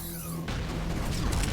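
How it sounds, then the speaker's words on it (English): Gunfire in the retro shooter Ion Fury: a loud, dense burst of crashing, clattering shots breaks in after a brief quieter moment and keeps pounding steadily to the end. "And more gunfire."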